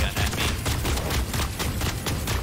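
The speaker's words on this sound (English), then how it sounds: "Hey, just trying to shoot a light gun at me." Rapid light gun fire in the mech shooter Super Mecha Champions, a steady stream of quick pops continuing throughout at close range with dense game noise behind.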